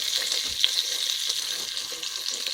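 Kachri bateta cooking in a pan with jiru, a steady, bright frying sizzle that holds at an even loudness throughout, close and without talking.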